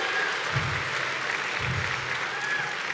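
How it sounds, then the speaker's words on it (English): Audience applause fills a conference plenary hall, a steady, dense wash of clapping from a large crowd that holds throughout at moderate distance. "Please give them a round of applause."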